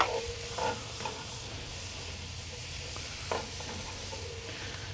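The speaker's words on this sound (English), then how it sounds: "My onions, peppers, garlic, been cooking in that bacon fat for about 5 minutes or so." Onions, peppers and garlic frying in bacon fat, with a steady soft sizzle and a few faint stirring scrapes throughout, no talking.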